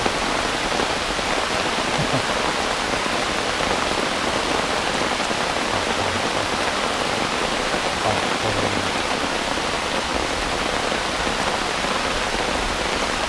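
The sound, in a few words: heavy rain in the jungle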